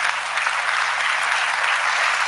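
Dense, steady applause from a debate audience at the Christopher Hitchens versus Tony Blair event, many hands clapping at once and filling the whole stretch without a break.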